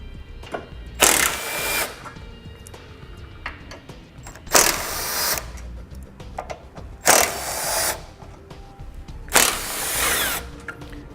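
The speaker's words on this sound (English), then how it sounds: "Then we'll use our 12mm socket to remove the remaining 4 bolts on each side." A power tool with a 12mm socket backs out bolts while a Roadmaster crossbar-style base plate kit is installed on a 2018 vehicle. Four separate whirring bursts, each about a second long, are spaced by short pauses, loud and close.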